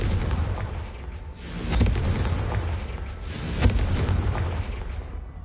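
Confringo blasting-spell explosions in the Hogwarts Legacy video game, two loud rumbling booms that each burst out and then fade with a long roaring tail.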